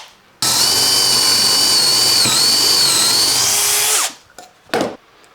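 Power drill fitted with a metal twist bit boring a hole in a guitar body: one loud, steady, high-pitched whine lasting about four seconds, then a quick wind-down and a couple of short follow-up bursts.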